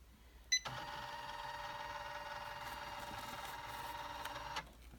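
An embroidery machine runs a stay stitch, starting with a click and then whirring at an even, steady pace for about four seconds before stopping. It is fairly quiet and no one speaks.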